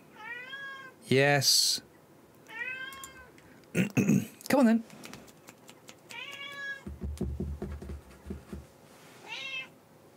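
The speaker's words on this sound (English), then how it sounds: "Can you hear this cat, everyone? She's just an absolute crazy thing." A domestic cat meows repeatedly indoors, loud and close, in several short separate calls, with a person speaking softly between them.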